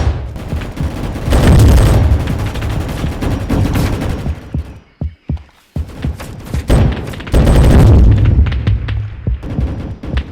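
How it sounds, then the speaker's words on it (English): Rolling Thunder gun from a video game firing in heavy, booming bursts that fill most of the stretch, with a short break in the middle before the loud volleys resume. "I'm gonna start killing people and see how crazy and OP this gun is actually"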